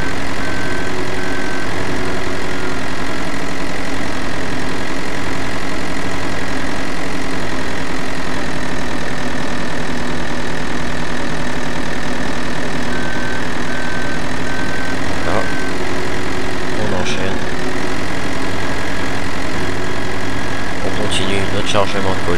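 A small Bobcat skid steer loader engine runs steadily at a constant drone for a long stretch while emptying grain silos during harvest, with a brief shift in pitch near the end.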